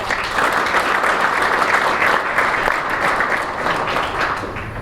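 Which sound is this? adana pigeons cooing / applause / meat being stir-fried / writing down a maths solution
applause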